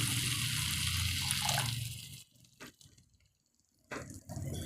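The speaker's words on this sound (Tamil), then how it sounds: "குழம்புக்கு தேவையான அளவு இப்போ தண்ணி சேர்த்துக்கலாங்க." Water pours steadily into a pot of tomato curry for about two seconds, then a few drips and splashes follow before another brief pour.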